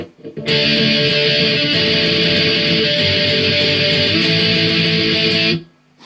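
Loud, sustained distorted electric guitar power chords from a verse, a dense steady wall of chugging rhythm that holds for about five seconds and then cuts off.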